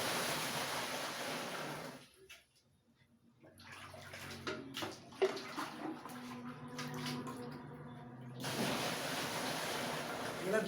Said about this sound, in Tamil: இப்போ இதில் தண்ணி ஊற்றுறேன்